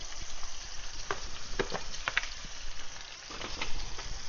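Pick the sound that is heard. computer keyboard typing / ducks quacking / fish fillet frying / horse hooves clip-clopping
fish fillet frying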